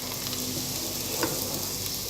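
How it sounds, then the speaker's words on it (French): Stuffed tomatoes fry in a pan with a steady, even sizzle that fills the whole moment, close and constant, with one faint clink partway through. "Alors, ça commence à frire."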